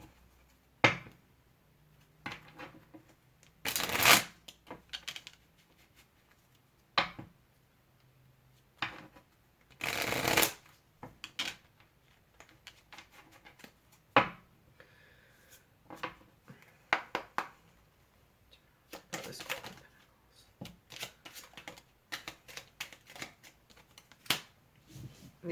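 Tarot cards being shuffled by hand in a quiet room, with repeated soft riffling bursts and scattered taps and slides between them, close and fairly faint.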